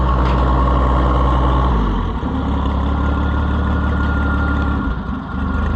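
An Oliver 77 Rowcrop tractor engine idles loudly and close, a steady low rumbling chug that shifts slightly in tone partway through and holds throughout without any voices.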